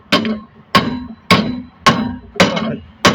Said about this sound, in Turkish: Şuradan çekiçle vuruyorum.